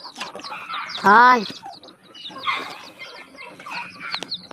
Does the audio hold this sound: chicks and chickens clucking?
yes